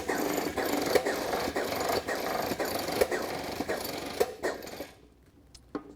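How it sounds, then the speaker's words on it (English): An airless spray pump's air motor runs with a steady, fast pulsing chatter and regular knocks for about five seconds, close and moderately loud, then cuts off to near silence with a couple of faint clicks. "So again, I'll actuate the air over the air motor."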